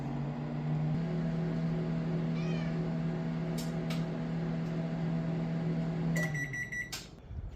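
A steady low hum of a microwave oven runs throughout, with a few faint clicks, then a high electronic beeping as it stops.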